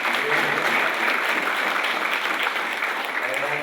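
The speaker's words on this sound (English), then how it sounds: "Another warm round of applause" Steady, dense applause from a poetry café audience at the close of a night of readings, sustained and even throughout with no voices over it.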